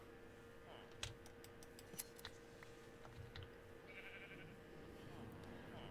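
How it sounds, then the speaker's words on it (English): Sheep bleat faintly in Minecraft during a gameplay stream, short game calls mixed with keyboard clicks and ticking, low in level. "We'll shear the sheep."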